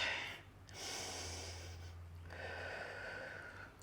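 Slow, deep yoga breaths, a long airy inhale followed by a soft sustained exhale into a seated twist, close and quiet over a low steady background hum.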